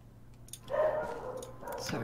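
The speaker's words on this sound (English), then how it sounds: "Sorry about my dog." A dog gives a few faint barks and yips in a room, a short burst under quiet background noise.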